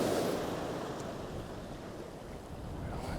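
Strong wind buffeting the microphone at the seashore during lure fishing for bass in Ireland, a loud steady roar with surf washing underneath throughout.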